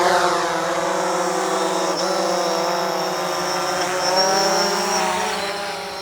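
Drone propellers spin up at the start of a mapping flight, a loud, close, steady high-pitched whine with layered tonal hum that holds throughout.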